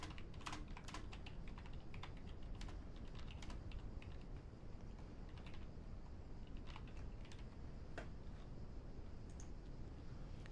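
Keyboard typing while writing code, rapid irregular clicks at low level over a steady background hiss, no voices.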